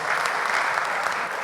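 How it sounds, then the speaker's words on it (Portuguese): Audience at a business debate on downtown Rio breaking into dense, steady applause, a brief burst of many hands clapping at once. "Muito bem, vamos aplaudir também o Sérgio aqui, agradecer a ele."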